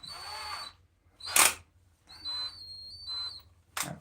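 A power drill boring 3mm holes while making z-axis rails, heard as several short high-pitched whining bursts separated by brief pauses, fairly close and moderately loud.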